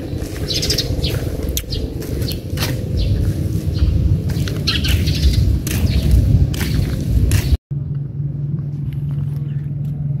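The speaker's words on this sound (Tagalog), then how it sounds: "Huni ng ibon at pagaspas ng hangin mga idol ang maririnig dito." Birds chirp and tweet in bursts over a steady rush of blowing wind in a rural village setting, then the wind noise cuts out abruptly and a low, steady hum remains.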